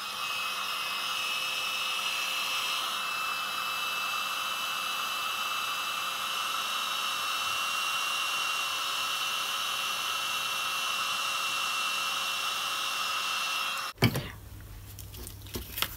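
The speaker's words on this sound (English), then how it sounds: "Then using the heat gun," A heat gun blows steadily while melting embossing powder for card-making: a continuous loud whooshing, whining hiss that stays even for about fourteen seconds, then cuts off abruptly and leaves faint handling noise.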